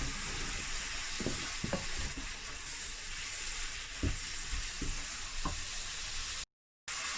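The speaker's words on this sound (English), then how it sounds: "Give that a bit of a stir, and we'll let that cook off a bit more." Venison ragu with thyme sizzles steadily in a pan, with intermittent scraping knocks from stirring running throughout before a brief cut to silence near the end.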